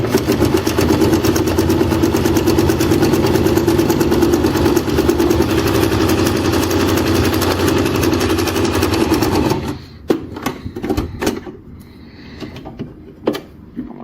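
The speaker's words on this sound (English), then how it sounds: "Let's lower the pressure foot again and sew a little bit more." Sewing machine running steadily as it sews a seam, a close continuous motor hum and needle chatter lasting about ten seconds, then stopping and giving way to a few handling clicks and knocks.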